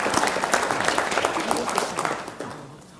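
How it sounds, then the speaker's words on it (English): Applause for the panelists at an insurance committee meeting, a dense round of clapping from the audience that stays steady before slowly fading, with faint voices mixed in. "let's give the panelists a round of applause"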